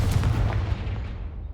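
Confringo fire spell blast from the video game Hogwarts Legacy, a loud, dense booming burst with a heavy low rumble that decays over about a second and a half.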